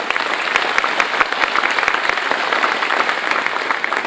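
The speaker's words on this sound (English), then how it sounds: "Let's give them a big round of applause as well." An audience at a county government address bursts into loud, dense applause, continuous crisp clapping filling the room close and steady throughout.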